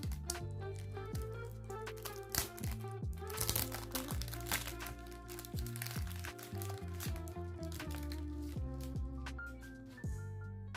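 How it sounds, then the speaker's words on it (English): Cellophane wrapper crinkles and crunches as it is peeled off a boxed Mr Burberry Indigo men's fragrance, with steady background music playing throughout. "So let's remove the cellophane."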